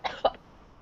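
Two quick, harsh coughs in succession, close and fairly loud, followed by quiet.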